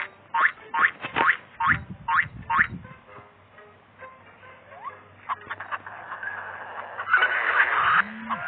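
A chicken squawks in a quick run of short, harsh calls, then a rustling, scuffling noise takes over, with a low hum underneath.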